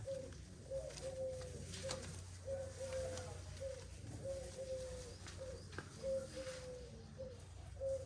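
Pigeons coo repeatedly in a soft, rhythmic series of low calls, steady throughout with a faint background hum.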